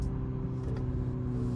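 A 2020 BMW 330i accelerating heard from inside the cabin: a brief steady engine drone with road rumble, fairly quiet and without talk.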